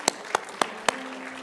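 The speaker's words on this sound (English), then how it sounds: "Give the Lord a hand, clap of praise if he's good." A church congregation claps in praise during a service, giving four sharp, evenly spaced claps with a faint tone sustained underneath.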